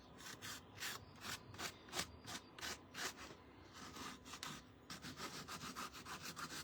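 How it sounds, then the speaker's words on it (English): Sandpaper rubs back and forth across wood in steady, rhythmic rasping strokes, close up, speeding into quicker short strokes near the end. "we're just kind of getting in here with our sandpaper"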